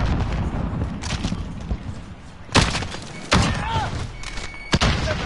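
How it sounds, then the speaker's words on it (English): A grenade explodes in the shooter game Call of Duty during a live match, one of several sharp, loud broadband blasts standing out over a busy bed of game noise and gunfire. "He threw a grenade, man."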